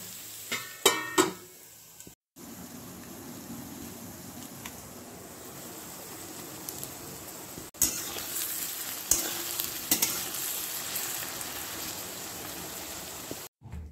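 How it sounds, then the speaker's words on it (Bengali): Chopped onions with whole garam masala, dried chillies and cumin frying in ghee in a pan, giving a steady, close sizzle broken by sharp spatula clanks and brief pauses. "ঘি দেওয়ার জন্য ফেনা কেটে গেছে, দিয়ে দেবো পেঁয়াজ কুচি"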